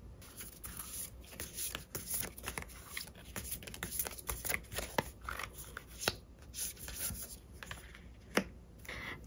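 Tarot cards are shuffled and handled while one is chosen, giving close, soft rustling, sliding and light flicking with irregular crisp snaps.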